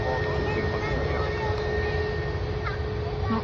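A busy Manchester airport sounds as a steady broad roar of aircraft engines with a constant tonal whine, heard from inside a plane, while a person talks over it.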